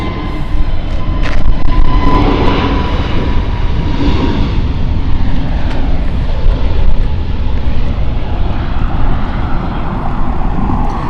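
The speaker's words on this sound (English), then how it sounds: "There was A321 of TAP going off." A TAP Airbus A321 airliner takes off at Lisbon Airport, its engines a loud, sustained roar of broadband jet noise that stays steady and close throughout, with no talk over it.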